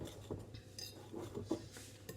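Coconut langues de chat batter being stirred in a bowl, with soft scraping and light utensil clinks against the dish, close and quiet, in irregular strokes.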